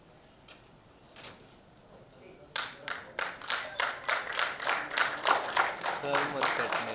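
An audience at a celebrity award event honouring a guest breaks into applause, starting with scattered claps and swelling into steady, rhythmic clapping that holds to the end, under some background voices.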